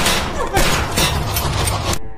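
Rapid bursts of gunfire crackle through a tense Indonesian film scene, dense overlapping shots with a heavy thump midway, loud and continuous for about two seconds before cutting off abruptly.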